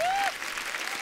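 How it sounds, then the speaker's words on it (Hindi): Brief burst of studio audience applause on a comedy show, a dense wash of clapping that fills the whole moment, with a short tonal whoop or whistle at the start. "एक बार जोरदार तालियां"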